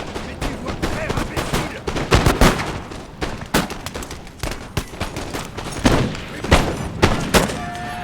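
Volleys of musket gunfire crackle across a Waterloo battlefield in Napoleon Total War multiplayer, dense repeated shots and thuds in an ongoing skirmish at mid distance, with no voices over them.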